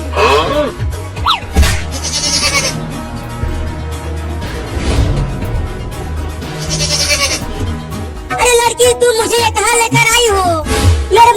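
Cartoon goat bleating loudly in several wavering cries, mixed with other animated voices and music-like effects, with a denser burst of bleats near the end.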